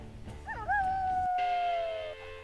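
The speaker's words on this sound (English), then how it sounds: "Stop howling, get over here." Wolf howl in the video game WolfQuest: one long, clear howl swoops upward, then holds and slowly falls over about a second and a half above soft game ambience.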